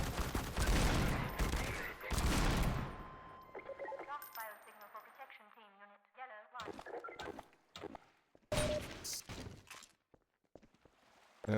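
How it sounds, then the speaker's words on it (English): Gunfire from a weapon in a modded Half-Life 2 game, a loud burst of shots followed by a descending whirring wind-down, with more sharp impacts afterward and a voice talking over parts of it. "this gun here, the wind down sound of it is the Gmod fizz gun sound, or prop gun sound."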